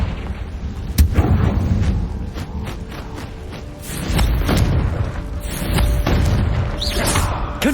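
Repeated Confringo fire spells burst in Hogwarts Legacy, a series of loud booming blasts with rumbling impacts and crackling debris over several seconds, one sharp hit standing out near the start.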